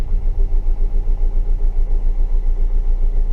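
Rover 75 CDT diesel engine idling in park after a MAF sensor replacement, a loud close rhythmic diesel chug with a steady pulsing beat and no surging, alone without talk.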